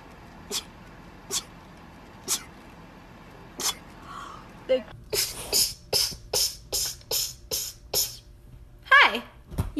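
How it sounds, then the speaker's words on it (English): A person lets out a rapid series of small, sharp sneezes, first a few spaced apart, then a quick run of about ten in close succession, ending with a louder squeaky sneeze. "those are my normal sneezes."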